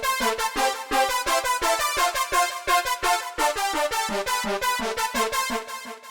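Bright synth lead from a North East makina sample pack plays a fast staccato melody, evenly pulsing short notes repeating in a driving rhythm, loud and alone without other sounds.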